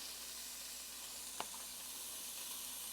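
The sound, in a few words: bacon sizzling in a hot pan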